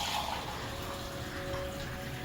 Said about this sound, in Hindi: 1 गिलास और डालूंगी पानी।